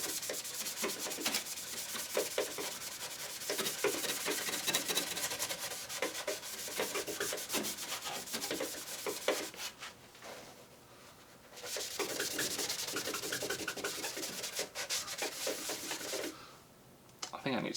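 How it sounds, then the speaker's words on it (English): A gritty polish pad scrubs a car headlight with fast, rasping back-and-forth rubbing, close and continuous apart from two brief pauses. "this is just basically a polish, I think, with some type of like grit in it. And it should scrub off everything from the headlight."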